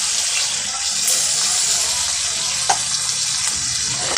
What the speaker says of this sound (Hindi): अब आधा गिलास पानी डाल देंगे